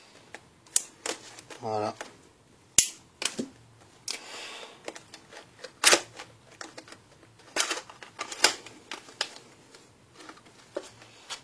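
Sealed plastic on a Korean Pokémon Black & White Hail Blizzard booster box being cut and torn open, with sharp crinkly rips and scraping handling noises scattered among brief speech.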